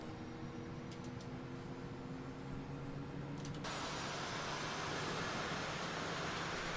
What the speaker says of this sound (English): Select engine number 2. Start. Select switch auto-centered. And that's it. It's spooling up.